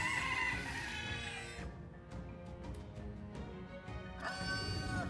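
An angry bird crows loudly in Metaphor ReFantazio, a rooster-like cock-a-doodle-doo heard at the start and again near the end, with clucking sounds in between, and no speech.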